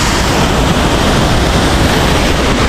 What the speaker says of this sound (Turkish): Suyun rüzgarı o kadar büyük arkadaşlar. Bayağı sert ve güçlü akıyor.